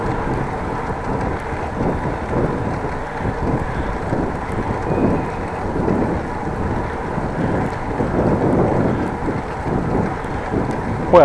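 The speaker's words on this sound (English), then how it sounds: "I can feel that I have a headwind at the moment" Steady headwind buffeting a cyclist's microphone on a bike ride from Appingedam to Groningen, a loud continuous low rumble that swells and eases throughout with no talking.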